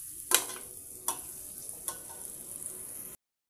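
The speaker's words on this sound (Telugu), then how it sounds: "దీన్నంతా మొత్తం బాగా కలబెట్టేసుకొని దీన్ని ఒక 2 నిమిషాలు అలా ఫ్రై అవ్వనివ్వండి" Spice mixture with salt frying and being stirred in a pan, giving a steady close sizzle broken by three sharp scraping clatters of the spoon, then an abrupt stop.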